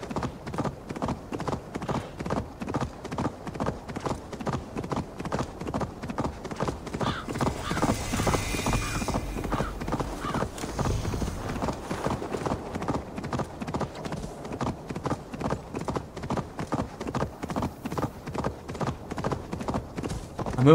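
Steady, rapid hoofbeats of a horse galloping in Assassin's Creed Valhalla, loud and continuous throughout, the horse running on its own while the rider does not steer.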